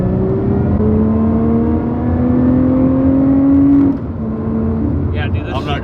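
A 2021 Lotus Evora GT engine in race mode rises in pitch through a sustained rev, heard from inside the car, then eases off as a voice speaks briefly near the end.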